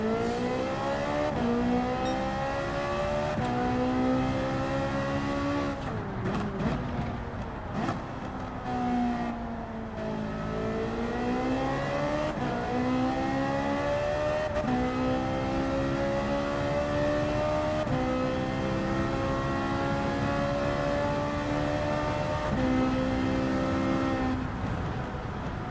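A car engine from Gran Turismo 7 holds a steady, loud drone on a slow lap, its pitch sliding up and down with gear changes and throttle, with no talking.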